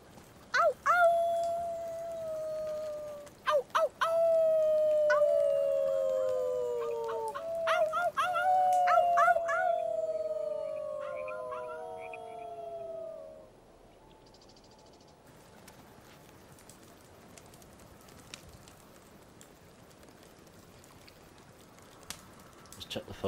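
Wolves howl in the Life is Strange 2 video game, several long rising and falling calls overlapping for the first half, loud and close, then fading into a quiet outdoor ambience.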